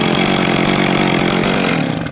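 A McCulloch Pro Mac 610 chainsaw engine runs steadily at close range, a loud continuous buzzing two-stroke drone that cuts off abruptly at the end.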